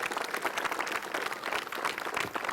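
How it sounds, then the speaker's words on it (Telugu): Audience applause at a school annual day celebration, an even patter of many hands clapping at moderate volume without pause. "మనమే చప్పట్లు కొట్టుకున్నాం."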